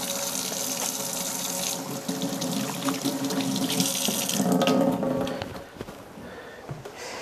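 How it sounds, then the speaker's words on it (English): A kitchen tap runs steadily as hands are washed under it before separating eggs, a loud, close, continuous gush of water that thins out near the end. "it's important that I wash my hands well just before I do that"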